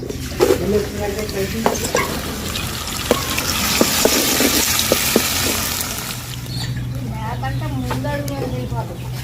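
Curry leaves with a paste of ginger, onion and green chili fry and are stirred in a pan, a steady sizzle with scraping clinks, while people talk throughout.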